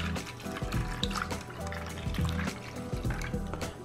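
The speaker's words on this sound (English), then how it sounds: "So just pour the coffee in." Coffee being poured into ice cube trays, a steady liquid trickle and splashing with small drips, close and fairly quiet, heard on its own.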